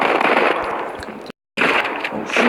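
Rapid, loud, dense automatic gunfire in the Modern Combat 5 multiplayer shooter, broken by a brief moment of dead silence before the firing resumes.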